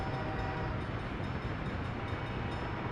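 A train departing in the city-building game Workers and Resources, a steady dense rolling rumble of rail cars that stays constant throughout with no talk.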